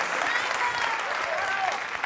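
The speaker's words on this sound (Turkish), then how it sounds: "Çağlar Ökten, Fuat Özdolgun ve orkestra arkadaşlarım için alkışlar" Studio audience applauding the orchestra on a Turkish morning TV show, a steady dense wash of clapping filling the whole stretch at close, fairly loud level, with a host's voice faintly under it.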